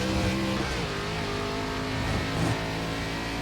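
An ARCA stock car in the iRacing sim at Watkins Glen revs hard through the carousel, its engine note droning loud and steady with a brief rise and dip near the end, no talking over it.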